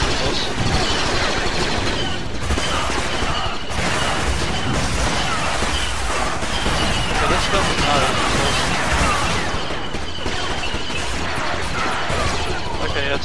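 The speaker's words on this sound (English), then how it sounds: "He's got a repeating blaster." A repeating blaster fires in the Star Wars Battlefront video game, with droid forces aboard a Separatist cruiser, as a relentless stream of loud shots mixed with crashes and explosions, while someone talks over the din.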